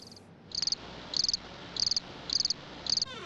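Grasshoppers chirp in short bursts, five evenly spaced rapid pulsing trills at steady intervals, fairly faint against a quiet outdoor background.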